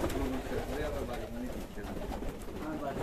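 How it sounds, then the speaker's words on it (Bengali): A black homer racing pigeon coos softly a few times against a low, steady background murmur. "রেসের পায়রা একটা ব্ল্যাক হোঙার"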